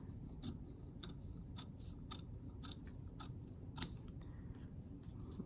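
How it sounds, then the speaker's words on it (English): Crisp scissor snips cutting through fabric, about ten quick cuts at a steady rhythm over a low background hum, close and clear. "so I'm going to go ahead and cut this out"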